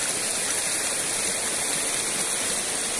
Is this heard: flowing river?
yes